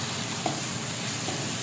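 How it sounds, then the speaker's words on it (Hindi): Green chillies fry with onion and garlic in a pan, giving a continuous close hiss of sizzling with a couple of small pops and no talking. "आप डाले मैंने हरी मिर्च, जिसको थोड़ा सा भून लूँ।"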